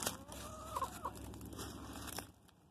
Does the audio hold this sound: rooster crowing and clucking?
yes